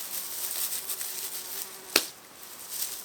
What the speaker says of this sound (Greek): Έχει και κουνούπια εδώ πέρα.